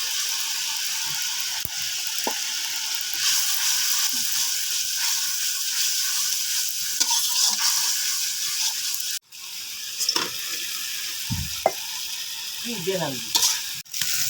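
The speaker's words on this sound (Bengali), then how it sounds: "ভাজা কলাটাই আমি আবার কষাই নিচ্ছি মশলার মধ্যে দিয়া" Fried plantain is stirred and fried with spices in a pan, a steady close sizzle with repeated scraping and clattering of a spatula, briefly cut off midway.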